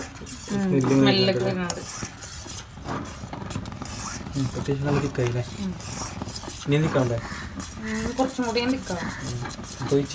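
A caramel pudding mixture is stirred in a pan, with a utensil repeatedly scraping and clinking against the metal near the mic. Someone talks over much of it.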